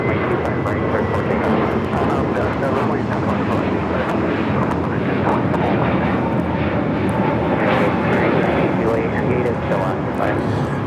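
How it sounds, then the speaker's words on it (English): A Spirit Airlines Airbus A321neo takes off at LAX, bound for Fort Lauderdale, its engines a loud, steady broadband roar that fills the whole stretch, with wind buffeting the microphone. "This is Spirit Airlines 2901 taking off to Fort Lauderdale on the A321 Neo"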